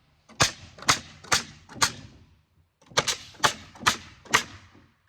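Nail gun firing into the wood of a garden planter box under construction, two quick bursts of four sharp, close, loud shots each with a brief pause between.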